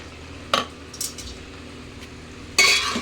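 A utensil clinks and scrapes against a pan while chicken spaghetti is stirred, three sharp knocks spaced apart over a quiet background, close and without speech.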